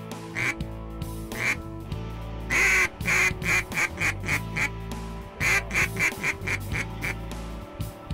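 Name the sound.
ducks quacking during duck hunt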